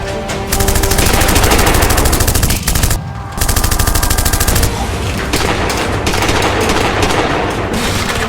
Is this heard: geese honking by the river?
no